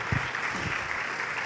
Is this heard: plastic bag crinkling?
no